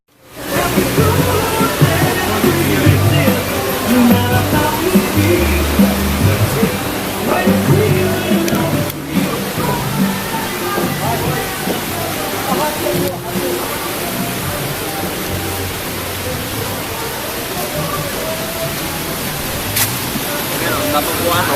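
A waterfall roars in a loud, steady, broadband rush of water right beside a bar, with voices talking underneath the constant noise.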